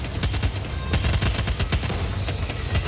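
Rapid bursts of automatic gunfire crack out loud and close, shot after shot in uneven clusters, from the zombie shooter video game Back 4 Blood, played in its crossplay beta.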